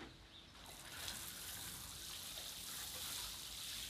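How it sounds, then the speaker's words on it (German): Water is poured onto a freshly potted pomegranate cutting, a quiet steady trickle and splash of liquid soaking into the soil, faint and continuous. "Jetzt gießen wir es an."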